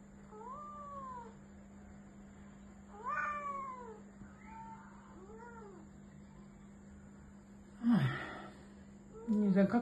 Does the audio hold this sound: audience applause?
no